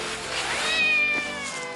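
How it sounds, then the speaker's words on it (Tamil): A cartoon kitten gives a single clear meow, rising and then falling over about a second, close and alone with no talking. "அது நம்ம பூனைக்குட்டி தான்."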